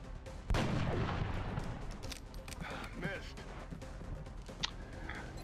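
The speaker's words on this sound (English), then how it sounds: "I want to try and take it with the sniper first. Let's go headshot" Sniper rifle shot in XCOM: Enemy Unknown, one sharp loud report followed by rumbling game effects, with a person talking over the action.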